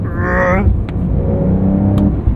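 A 2023 Porsche 911 Carrera T with a manual gearbox holds a deep, steady growl at around 3,000 to 4,000 rpm, heard close from inside the car with a continuous low rumble.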